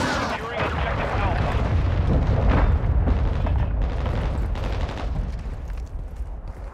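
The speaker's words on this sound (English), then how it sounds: "Friendly cruise missile approaching target." A cruise missile strike detonates in Call of Duty: Modern Warfare III, a loud, sustained rumbling blast of booms and debris that fills the whole stretch with dense explosive noise and faint game chatter underneath.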